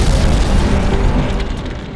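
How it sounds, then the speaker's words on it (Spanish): A Boeing 747, TWA flight 800, explodes over the Atlantic shortly after takeoff: a loud, sustained deep boom with heavy low rumble that fades slightly over two seconds. "hay una explosión"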